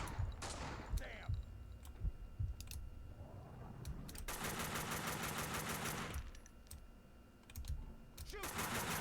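Gunfire in Max Payne 2 on PC comes as several rapid automatic bursts, loud and close, separated by short gaps filled with other game sounds.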